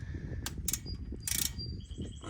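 Wrench loosening a brake caliper bolt on a 2014 Toyota Highlander, several short metallic ratcheting clicks in bursts over a low mechanical rumble, close and fairly faint.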